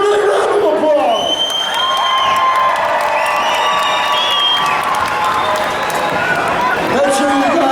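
Crowd at a monster truck freestyle show at a county fair gives loud, continuous applause and cheering with whoops and shouts, while an announcer talks over it.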